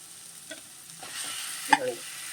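Pieces of Godavari Koyinga fish drop into a pan of frying onions, setting off a soft sizzle with a few scraping stirs and one sharper clatter, fairly quiet and close, with no voices.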